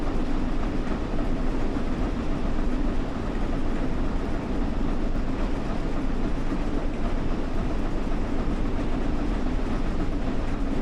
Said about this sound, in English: You're driving 97 tons of locomotive there, which is incredible.